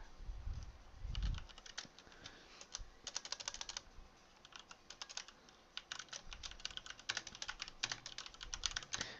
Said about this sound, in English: So let's type something like